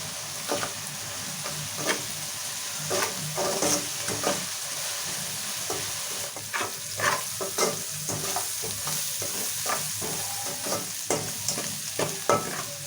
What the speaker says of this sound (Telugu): సో ఇప్పుడు ఉల్లిపాయలు మొత్తం మంచిగా లైట్ గోల్డెన్ బ్రౌన్ కలర్ వచ్చేలాగా ఫ్రై చేసుకోవాలి.